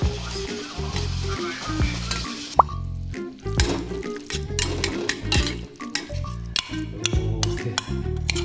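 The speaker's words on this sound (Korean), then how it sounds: "기름은 다 달궈진 것 같고 조심조심 막 섞어줍니다" Ingredients stirred in hot oil sizzle and fry steadily in a pan, with clinks and scrapes of the utensil as they are tossed, close and continuous for the whole stretch.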